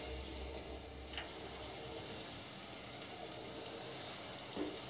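Small pieces of dough for buri fry in hot oil, giving a steady, quiet hiss and bubbling sizzle with no talk over it.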